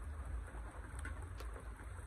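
Steady rainfall outdoors, a soft continuous hiss with a low rumbling wash and faint bird cooing, no talking.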